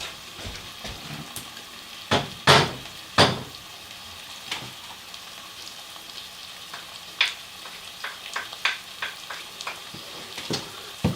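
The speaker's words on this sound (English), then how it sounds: "As you see, it is sizzling because it is nice and warm" Onions frying in warm vegetable oil in a pan, a steady soft sizzle with sharper crackles and spits scattered throughout, and a few louder bursts near the start as more onions go in.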